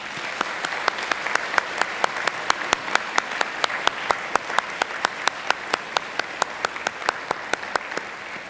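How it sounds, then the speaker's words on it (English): Graduates applaud their families and friends at a university graduation ceremony, and a rhythmic, sustained crowd clapping falls into a regular beat that holds steady to the end. "give them a hearty round of applause"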